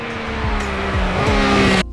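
Triumph Speed Triple RS motorcycle accelerating hard, its loud, steady engine roar climbing in pitch through repeated gear changes, close and continuous with no talk.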